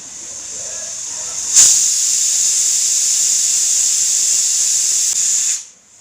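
A pressure cooker on a home stove cooking jackfruit whistles loudly, opening with a sharp burst and then holding a steady, shrill hiss of escaping steam for several seconds before cutting off abruptly.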